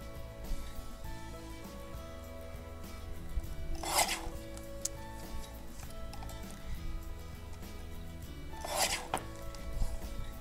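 A yellow card base being trimmed with a paper trimmer, two quick slicing swipes a few seconds apart over a quiet background with no talking.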